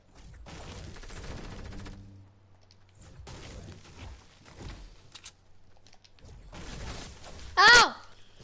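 Fortnite gunfire comes in several bursts of rapid shots from the battle royale video game. The bursts are spaced a second or so apart and are followed by a sharp, loud impact near the end, with voices talking between the volleys.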